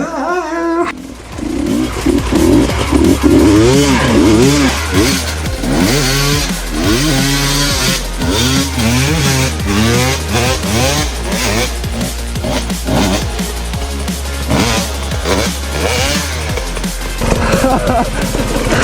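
An enduro motorcycle churns through deep mud in Portugal, its engine revving hard and loud in sustained snarling bursts with wavering pitch as the rider pushes through, close and continuous.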